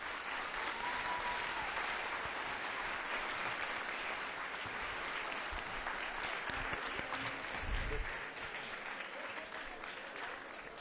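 Sustained audience applause for a doctor after a talk, a broad even wash of many hands clapping at moderate distance, continuing for about ten seconds with a brief swell near the end and no speech.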